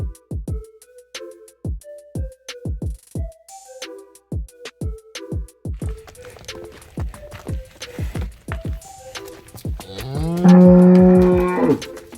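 Cows mooing in a shed holding Jersey, Sahiwal and HF breeds, a series of short, clear low calls in quick succession, closing with one long loud drawn-out moo, with faint knocks and hoof clatter in between.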